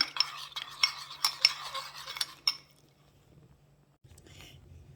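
A spoon stirs a seasoning mix of oyster sauce, seasoning salt, fish sauce and sugar, giving a string of quick clinks and scrapes against the bowl for a couple of seconds before the sound falls almost silent.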